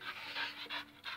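A dog panting in quick, breathy rhythmic pulses, close to the microphone and fairly faint, with no talk.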